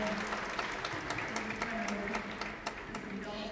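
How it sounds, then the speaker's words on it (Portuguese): An audience at a panel presentation applauds the panel members with a steady, moderately faint wash of clapping that continues throughout. "a Cristine, a Ariel, Álvaro, Alejandro, uma salva de palmas para eles."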